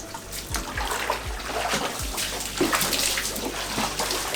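Water pours steadily into a private onsen bath in Kyushu, a continuous close splashing rush with occasional low sloshing thumps, heard alone without talk.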